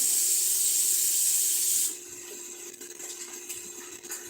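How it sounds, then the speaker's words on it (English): Tap water runs in a steady hiss into a can during a chili day at home, then shuts off, leaving faint clinks and room tone. "Put a little water in this can."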